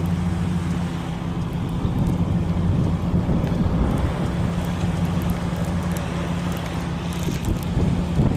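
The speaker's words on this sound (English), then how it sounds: "Torrential rain's coming up here in the northwest side of the valley." Torrential rain pours on the northwest side of a valley during a flood, a steady loud roar with heavy low rumble and wind buffeting the microphone throughout, no voices.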